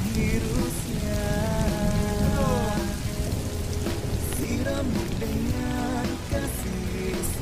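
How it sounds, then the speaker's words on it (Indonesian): Heavy rain pours steadily as a dense, constant hiss, while melodic tones, likely background music, drift over it without any speech. "Ya hujannya gede banget nih."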